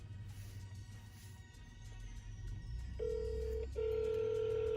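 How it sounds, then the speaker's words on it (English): A telephone call being placed: faint line noise gives way to a steady ringback tone that sounds once, breaks briefly, then rings again loudly near the end, with no talking. "So we're about to call him and gonna see if we can make contact."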